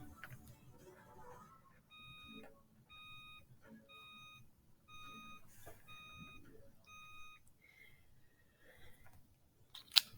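A UV sanitizer signals the end of its cycle with six evenly spaced electronic beeps, each short, steady and high, moderately loud indoors over faint room noise, followed by a softer trailing tone.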